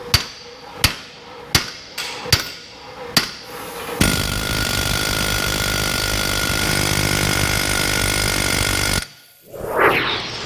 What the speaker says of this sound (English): Sometimes they're still pretty stiff, need a few final blows with a hammer.